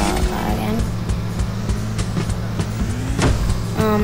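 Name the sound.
car driving in video game Sneaky Sasquatch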